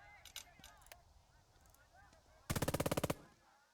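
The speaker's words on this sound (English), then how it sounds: "Yes, they're shooting at my tanks" Rapid gunfire rattles in a short loud burst at tanks in the war strategy game Burden of Command, following quieter scattered pops and distant combat noise.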